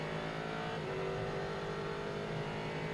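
An LMP3 race car accelerates hard out of a corner at Silverstone, its engine a loud, continuous onboard drone with the pitch climbing steadily through the gear.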